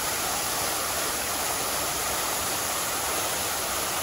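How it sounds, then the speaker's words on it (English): Downtown fountains run at night with a dense, steady rush of splashing water that stays even and continuous, close and fairly loud with no voices. "another set of fountains are on tonight"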